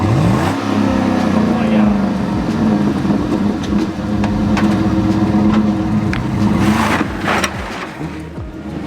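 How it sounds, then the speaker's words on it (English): A Ford police car with traction and stability control switched off revs hard while sliding, a loud, continuous engine roar with shifting pitch, close up, with some tire and wind noise throughout. "So that's how you guys can slide a police car if you guys want to"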